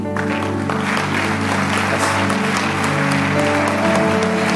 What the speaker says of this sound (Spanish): Dele un fuerte aplauso al Señor ahí